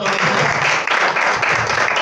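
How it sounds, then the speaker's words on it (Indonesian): A church congregation claps during a sermon, a loud, continuous burst of many hands with voices mixed in throughout the short stretch. "tepuk tangan dong buat Tuhan"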